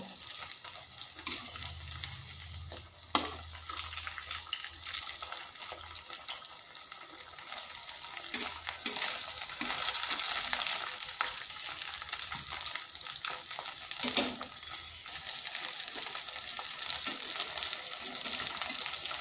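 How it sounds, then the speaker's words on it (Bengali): Homemade paneer pieces made from papaya fry in hot oil in a small batch, a steady close sizzle broken by occasional utensil clicks and turning sounds. "এগুলো কিন্তু একবারে সব ভাজা যাবে না, কম কম করে ভাজতে হবে।"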